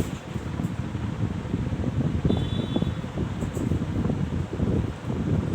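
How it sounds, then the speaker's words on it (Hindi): An electric ceiling fan runs indoors with a steady, rushing whoosh of moving air. It is broadband and fairly loud, with a faint high whine partway through and no talk. "पंखा चल रहा है"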